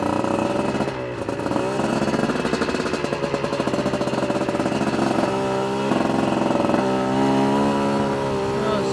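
Light Chinese dirt bike engine running on a street ride, a close buzzing single-cylinder putter with rhythmic pulses and a brief throttle change near the start, steady and loud throughout.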